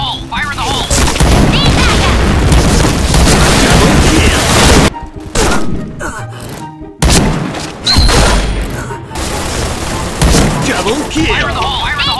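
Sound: grenade explosions in the video game Point Blank

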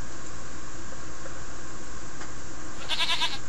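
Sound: goat bleating in the video game King's Quest 1

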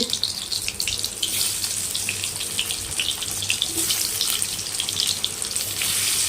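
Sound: potatoes frying in a wok

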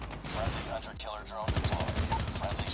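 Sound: gunfire in the video game COD Mobile

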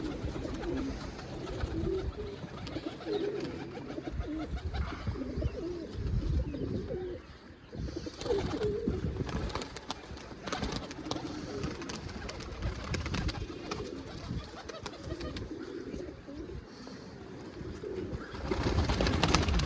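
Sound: pigeons cooing in a loft

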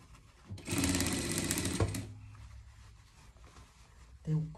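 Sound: sewing machine stitching pet pajamas

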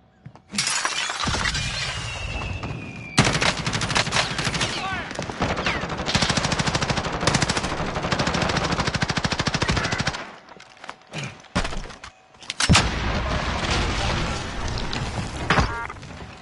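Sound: light machine gun firing in Call of Duty video game

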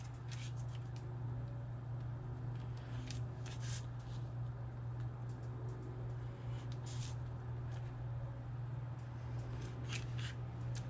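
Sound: cutting paper tabs for a custom box

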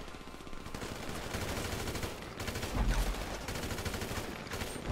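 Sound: gunfire in the video game GTA Online

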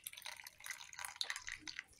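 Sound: water dripping from squeezed soy meat

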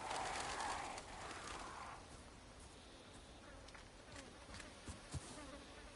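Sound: buzzing insects in video game Resident Evil 4

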